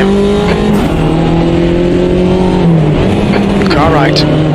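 Race car engines in Automobilista 2, Mini Cooper JCW machines at Donington Park, drone steadily with shifting pitch as one closes from behind, loud and continuous under race-engineer radio chatter.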